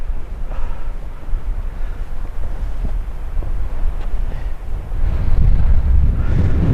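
Strong winter wind buffeting the microphone on an exposed hilltop near Mam Tor above Castleton, a steady roaring rumble with gusts swelling louder toward the end, no talk.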